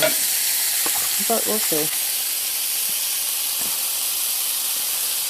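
Bacon sizzles and hisses steadily in a frying pan, a close, constant crackle that runs throughout while a person speaks briefly near the start.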